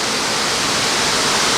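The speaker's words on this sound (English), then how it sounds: "So all this waterfall is coming off of the Rideau." The waterfall on the Rideau River where it meets the Ottawa River gives a loud, continuous broadband rush of falling water, close and steady with no voices.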